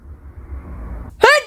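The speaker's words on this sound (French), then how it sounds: "j'ai envie d'éternuer" A single sneeze bursts out near the end, loud and close after a stretch of quiet low background hum.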